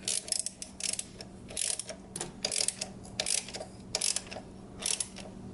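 A ratchet snugs a 15 mm fitting on a zinc gauge part of a 2nd-gen Cummins, giving repeated bursts of close, crisp clicking in short strokes with brief pauses between, no talk.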